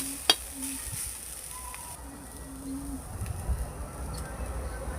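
Cabbage and radish greens fry in a pan with a faint, steady sizzle, while a pigeon coos softly in the background and a light tap sounds near the start.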